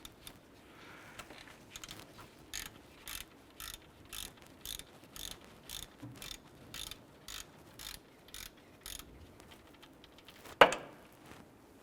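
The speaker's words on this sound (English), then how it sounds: "Using a 14mm socket and ratchet, we're going to go ahead and loosen the upper pivot bolt on our alternator." Ratchet with a 14mm socket loosening the upper alternator pivot bolt on a 2001-2005 Honda Civic, a steady series of about fifteen short, evenly spaced clicking bursts close by, ending in a louder metallic clunk near the end; no talking.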